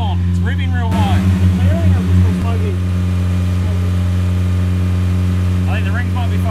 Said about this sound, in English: I think the choke's on, it's revving real high.